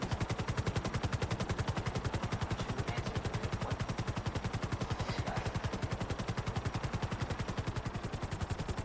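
Rapid, continuous automatic gunfire from the Call of Duty Black Ops video game, a dense, evenly pulsing burst that runs loud and unbroken from start to finish with no voices over it.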